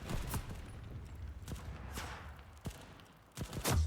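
Semi-automatic gunfire in a shooter video game: a few separate sharp shots spaced irregularly over a few seconds, moderately loud against a low rumbling backdrop.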